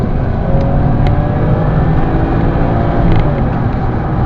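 A 2005 BMW E60 525i engine accelerates under kick-down, a steady, loud, droning roar from inside the car that holds throughout without any talk.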